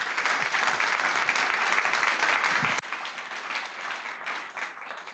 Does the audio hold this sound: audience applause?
yes